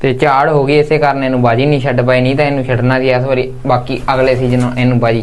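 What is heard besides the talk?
No everyday noise stands out behind the speech.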